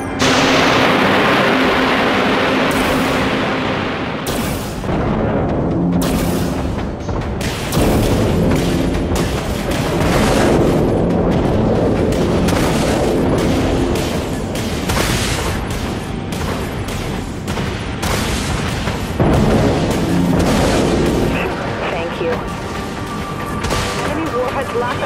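Torpedo launches and explosions in the naval combat game Dreadnought: repeated heavy booms and blasts over a constant rumbling battle bed, loud throughout, with voiced radio callouts mixed in.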